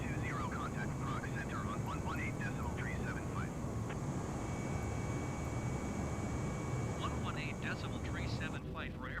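Cockpit cabin sound of an airliner climbing just after takeoff in Microsoft Flight Simulator 2020: a steady, moderately quiet engine rumble runs throughout, with intermittent chirpy tones and short faint sound effects laid over it.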